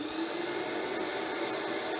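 A faulty Rug Doctor carpet cleaner runs with a steady, loud motor whine and airflow hum, close by and without pause or talk.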